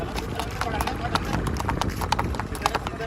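A mare's hooves clatter in a fast, steady clip-clop while she races, the beats close and continuous under constant background noise, with people talking over them.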